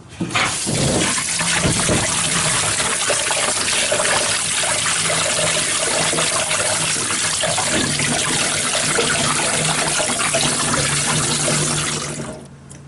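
Green onions are washed under a running kitchen tap, a loud close continuous rush and splash of water that stays steady for about twelve seconds before cutting off.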